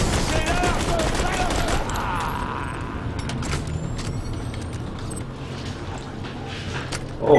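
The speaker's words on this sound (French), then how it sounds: "mais non, c'était des mitrailleuses." Machine-gun fire in Borderlands 2: a dense, steady rattle of rapid shots runs throughout at even loudness, with metallic mechanical clatter mixed in and a louder burst right at the end.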